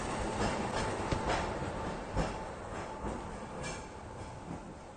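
A Hong Kong tram rumbles past on street tracks, its rolling wheels clattering and clicking along the rails with a heavy low rumble, moderately close and steady for several seconds.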